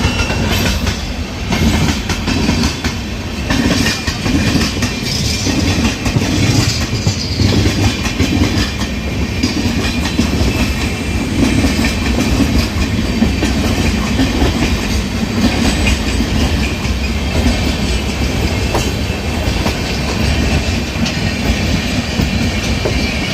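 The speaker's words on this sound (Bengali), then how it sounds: "এই যে ব্যাকগ্রাউন্ডে যে ট্রেনটা দেখতে পাচ্ছেন আমার, এই যে এটা হচ্ছে হাওড়া নিউ দিল্লি রাজধানী এক্সপ্রেস।" Howrah–New Delhi Rajdhani Express (12306) rolling past with a loud, steady rumble and clattering wheels on the rails, continuous and close throughout, with no talk.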